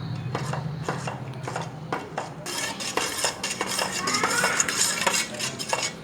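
A ladle stirs payasam in a metal pot, scraping and clinking against the sides in steady repeated strokes, close and fairly quiet, with a soft sizzle underneath.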